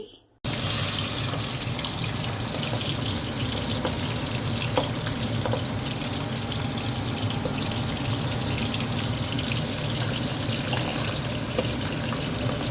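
Fish frying in oil in a steel kadai, a steady, dense sizzle that runs continuously and fairly loud throughout after a brief silent start, with occasional small clinks.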